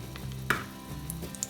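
Tomato paste sizzles quietly in hot oil in a pan, a soft continuous crackle with a few sharper pops and a brief clatter near the start.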